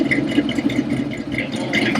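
A 1976 custom Chevy van with a custom ground cam idles up close, a loud, steady, slightly lumpy rumble with some rattle.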